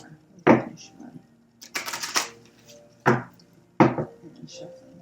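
Tarot cards shuffled by hand at close range, with a few crisp papery riffling and tapping bursts separated by short pauses.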